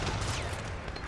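Gunfire in the Sleeping Dogs video game: a dense, continuous burst of shots blurring into a loud fusillade over about a second, with no break.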